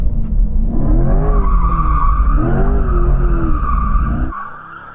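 A Corvette drifting with its tires skidding, a loud sustained screech that wavers in pitch over a heavy engine roar, then fades abruptly at the end.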